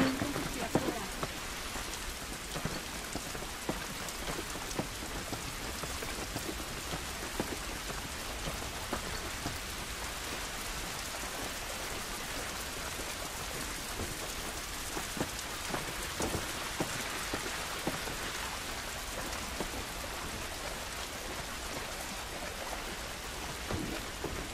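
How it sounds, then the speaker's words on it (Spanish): Steady rain falls in The Last of Us video game, a dense, even hiss of drops on surfaces running throughout with a faint low rumble underneath and no clear talking. "Esta lluvia no nos ayudará."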